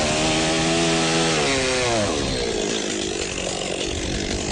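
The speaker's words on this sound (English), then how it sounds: "You can cut your firewood." A chainsaw cuts through firewood close by, its loud engine whine dropping in pitch as the chain bogs down into the log, continuing as a rough, steady sawing roar.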